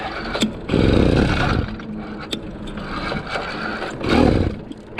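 A motorized bicycle engine fitted with new carburetor jets and running rich sputters to life in two short, rough bursts, with quieter idle-like noise between the attempts.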